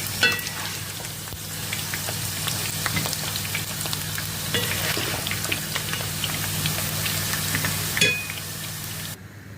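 Potato pieces frying in oil over high flame, a dense crackling sizzle with scattered pops running steadily and close, a brief clatter near the end before it cuts off.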